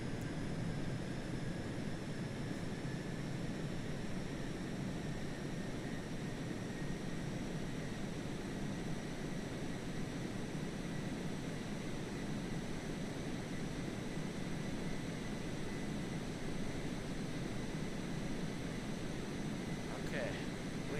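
Rocket engine at full throttle during takeoff in Kerbal Space Program, a constant loud roaring hiss that holds steady throughout with a faint rising whine near the end.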